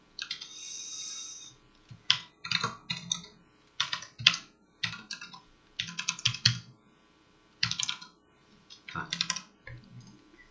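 Code is typed on a computer keyboard in bursts of rapid close key clicks, separated by short pauses, with faint background hum and no talk.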